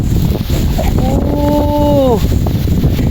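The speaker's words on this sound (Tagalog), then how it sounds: "Sarap ng hangin." Steady wind rumbling across the microphone outdoors, with a brief tonal horn-like whine in the middle.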